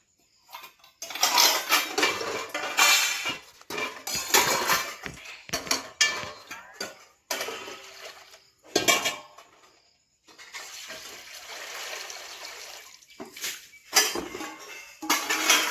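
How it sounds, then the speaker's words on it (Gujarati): Pots, pans and metal utensils clanking in bursts as they are washed by hand, with splashing water between the clatters and no talk. "જો મેં વાસણ ધોવાનું કરી દીધું ચાલુ।"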